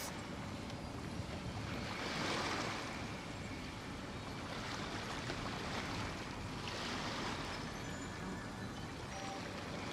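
Ocean waves wash in with broad, rolling surges roughly every few seconds over a steady roar, with wind buffeting the microphone and no voices.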